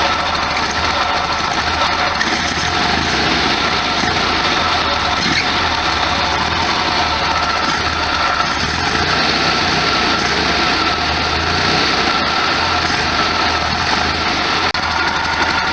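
The engine of a 1973 VW Super Beetle idling, a dense, steady, even drone that runs loud and unbroken throughout.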